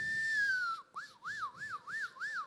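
A voice mimics a distant ambulance siren: one long falling tone, then a quick wavering up-and-down wail that repeats about five times at moderate loudness, with no talking.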